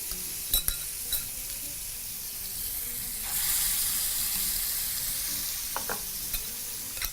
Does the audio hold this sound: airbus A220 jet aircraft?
no